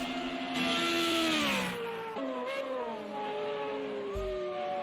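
Racing car engines in a sim racing game at the Austria circuit whine steadily at high revs, with shifting pitch as the cars come through the final turn and one brief upshift near the end.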